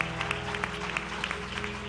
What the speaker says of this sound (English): Let's give the Lord a hand clap for Leon Bachelor's word tonight.